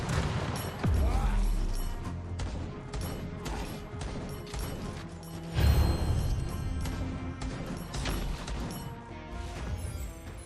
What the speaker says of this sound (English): Throw a cluster grenade.